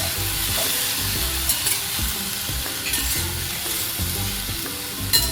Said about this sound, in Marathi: तेलावरती आपल्याला ही गवारीची शेंग छानपैकी आता परतून घ्यायची आहे